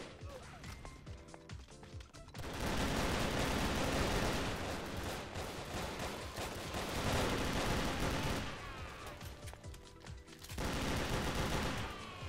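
Pistol gunfire in the Brick-Force shooter during a team deathmatch comes in dense, loud bursts of rapid shots, separated by quieter gaps with scattered clicks and game sounds.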